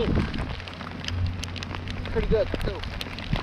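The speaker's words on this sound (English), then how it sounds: "Started raining." Rain falls during an outing go-kart fishing for catfish, a close patter of drops on surfaces with a few sharper taps, while a person speaks briefly.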